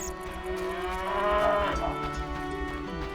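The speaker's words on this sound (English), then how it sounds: "our champion cow." A cow lows in The Witcher video game, a long drawn-out moo that swells and fades over a few seconds, heard clearly alone over a low game ambience.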